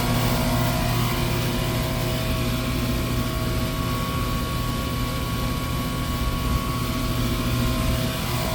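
An air conditioning unit runs steadily throughout during an R22 refrigerant charge, a loud continuous motor and fan drone with a strong low hum and no pauses.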